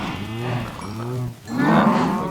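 Cows in the Minecraft game, two drawn-out moos close and loud, one after another with a short gap between.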